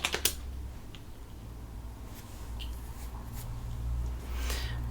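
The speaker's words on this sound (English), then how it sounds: "Here I have to type it a little bit longer." Soft keystrokes on a computer keyboard while a command is entered on an Arch Linux desktop: a few sparse, quiet clicks over a steady low hum, with no talking.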